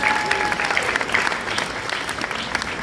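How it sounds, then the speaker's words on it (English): A crowd at a 2019 New York gala claps steadily and loudly throughout, a dense, sustained round of applause with no voices standing out. "So let's give him a big round of applause."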